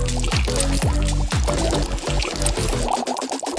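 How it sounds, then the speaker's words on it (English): Ingredients poured into a kitchen bowl and swirled around, a sloshing, gurgling liquid pour running throughout with a thinner trickle near the end, close and fairly loud. "pouring all of our ingredients into the bowl and swirling it around"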